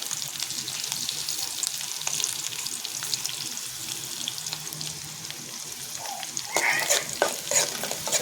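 Green chillies and curry leaves fry in a hot pan, giving a steady close sizzle with light stirring scrapes throughout and a louder burst of crackle near the end; nobody speaks.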